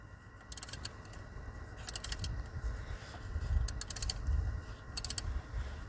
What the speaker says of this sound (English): And we're just gonna tighten this bolt.